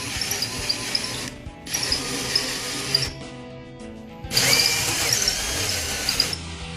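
A power drill driving a hole saw through a door for a digital lock whines steadily with a high-pitched squealing edge, cutting out briefly twice before resuming loud and close.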